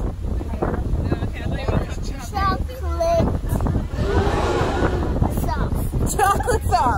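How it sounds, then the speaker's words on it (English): Strong wind buffets the microphone with a constant roar while people talk over it. "The weather's windy"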